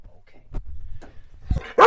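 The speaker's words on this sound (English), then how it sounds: "They have a miniature pinscher dog, little Doberman, that just raises holy heck when I walk past the fence over there." A miniature pinscher behind a fence near a small shop lets out a few short barks and yips, then a sharp loud bark at the end, heard close over wind.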